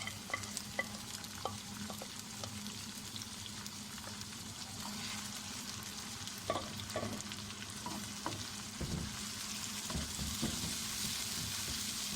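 Mutton meat frying and being stirred in a pot of browned onions, with a steady low sizzle and intermittent scraping and clinking of the spoon against the pot.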